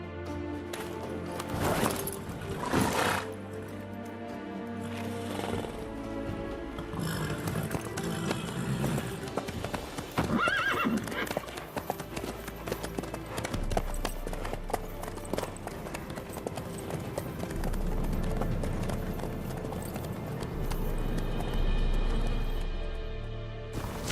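A horse gallops in the video game Witcher 3, hooves pounding in a rapid, continuous clip-clop over road, with background music and ambient rumble throughout, close and moderately loud, no voices.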